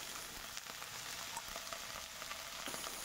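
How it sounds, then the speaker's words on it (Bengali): Cut okra fries lightly in a pan with a faint, even sizzle, soft crackles ticking quietly throughout with no voices. "ওইদিকে ঢেঁড়সটাকে অল্প ভাজা করে নিচ্ছি"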